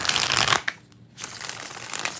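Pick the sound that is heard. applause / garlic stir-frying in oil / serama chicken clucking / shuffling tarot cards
shuffling tarot cards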